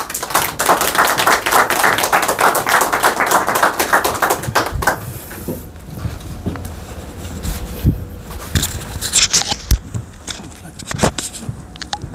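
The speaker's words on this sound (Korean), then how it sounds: "따뜻하게 박수로 환영해 주십시오" Dense clapping from a crowd fills the first few seconds, then thins out into scattered claps and quiet room noise.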